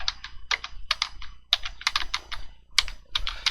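Quick bursts of keystrokes on a computer keyboard as a file name is entered, close and clear, in short irregular clusters with brief pauses between them.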